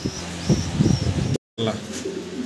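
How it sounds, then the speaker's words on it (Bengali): A pair of black-laced satin pigeons coo in a few soft, throaty bursts close by, with a brief dropout of silence before quieter rustling resumes. "অসাধারণ সুন্দর এক পিস এক জোড়া শার্টিন কবুতর"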